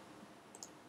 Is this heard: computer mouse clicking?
yes